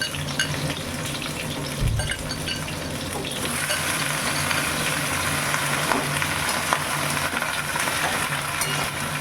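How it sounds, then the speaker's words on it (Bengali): Cauliflower frying in hot oil in a pan, a steady close sizzle that swells after a few seconds, with occasional stirring clinks and scrapes of a utensil against the pan, no talking. "এখন আমি ফুলকপিগুলোকে ভেজে নিচ্ছি আস্তে আস্তে।"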